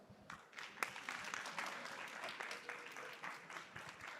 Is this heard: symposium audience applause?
yes